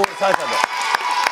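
Children clap for a friend, four sharp, evenly spaced claps close by, over chatty talking and high voices.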